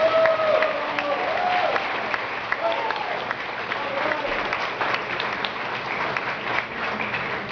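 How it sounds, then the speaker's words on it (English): An audience applauds steadily after a tech demo presentation at a San Francisco beta event, dense clapping filling the room with a faint voice briefly underneath. "one more round of applause for Powerset, please"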